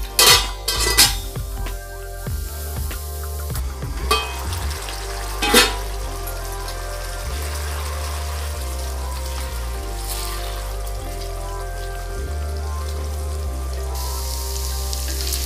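Raw banana slices frying in a covered pan, a steady soft sizzle running throughout with a few sharper clatters and knocks near the start, close and fairly quiet.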